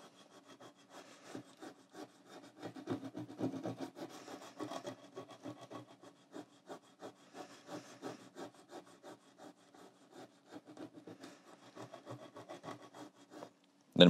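Abrasive paper rubbing back and forth across instrument frets during fretwork, a steady rasping scrape in quick repeated strokes, close and alone with no talking.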